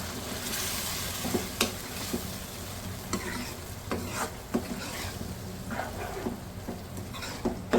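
Fried vegetables are stirred into a sizzling capsicum masala in a pan, a continuous frying hiss broken by regular scraping clinks of the spoon against the pan, with no talking.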